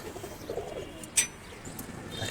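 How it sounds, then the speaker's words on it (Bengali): Pigeons coo softly at a loft as racing birds return home, low murmuring calls close by with a single sharp click partway through and no speech. "তো আজকে এখন রবিবারের 10 কবুতরগুলো দেখবো আমরা"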